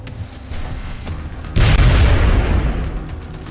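An explosion in XCOM: Enemy Unknown lands as one sudden heavy boom with a deep rumble that slowly fades over game ambience, loud and with no talk over it.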